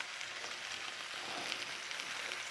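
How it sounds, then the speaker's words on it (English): Butter sizzling and frying in a skillet, a steady soft crackling hiss heard close and fairly quiet, with no voices. "I'm going to put some butter in this skillet."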